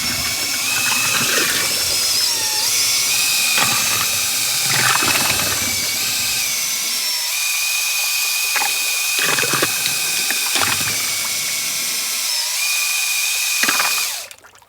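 A DeWalt battery drill whirs steadily while stirring bee feed syrup, its motor holding a continuous high whine with liquid churning and a few bursts of trigger changes before it stops.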